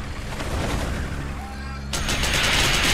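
MLRS rocket artillery launching in Generals Zero Hour, a steady roaring salvo of rocket fire that surges louder near the end, with game battle noise throughout.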